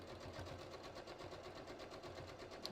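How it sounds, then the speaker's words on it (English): Up close, a sewing machine triple-zigzags over a serged edge on stretched fabric with elastic, its needle beating in a fast, even rhythm throughout a short continuous run, with no talking. "So I'm just going to start stitching here."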